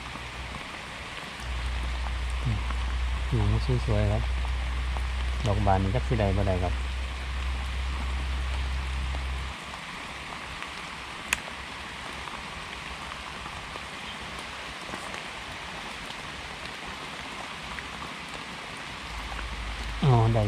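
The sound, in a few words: rain falling while gathering mushrooms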